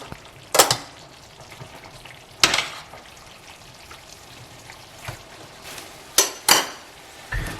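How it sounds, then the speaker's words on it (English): Spaghetti tossed into puttanesca sauce in a pan, with a low background sizzle broken by a few sharp utensil clanks and scrapes at irregular intervals, close and moderately loud. "we can take our pasta and add that to the sauce"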